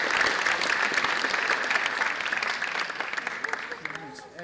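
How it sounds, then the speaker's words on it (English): Audience applause at an eighth grade school concert, a dense burst of many hands clapping that thins and fades toward the end. "So give those students a round of applause."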